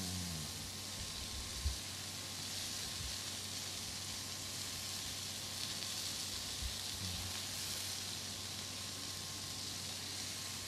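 Tiger prawns frying in a pan give a faint, steady sizzle and hiss throughout, with a couple of soft knocks and no talking.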